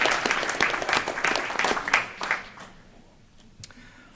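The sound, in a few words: audience applauding and cheering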